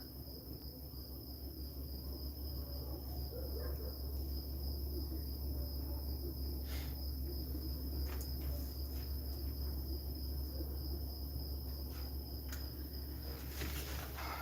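Crickets and other insects hum and chirp steadily around a vegetable garden growing spring onions and round cabbage, with a faint continuous high drone and a few sharper ticks; no speech.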